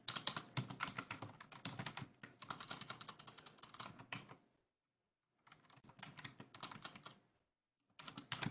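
A command is typed on a computer keyboard in a Linux terminal: rapid clattering keystrokes in close, continuous bursts separated by two short pauses of silence, with no talking.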